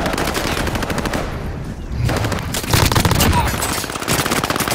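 Video game gunfire: sustained automatic bursts rattling fast and loud, with a short lull midway before heavier firing resumes, no talking.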